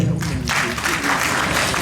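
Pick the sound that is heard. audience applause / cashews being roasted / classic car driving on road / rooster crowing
audience applause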